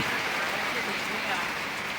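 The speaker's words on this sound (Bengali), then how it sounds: "শাহ শাহ শব্দ করে বৃষ্টিটা আসছে" A sudden, heavy downpour hisses steadily and densely on surfaces outdoors by a roadside, with no break across the short stretch.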